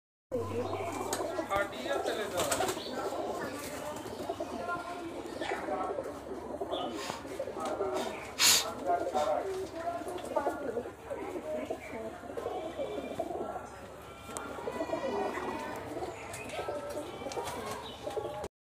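Giribaz high flyer pigeons in a Rajshahi loft give steady, overlapping coos and soft calls throughout, mixed with busy background voices and ambient noise, with one brief sharper sound midway.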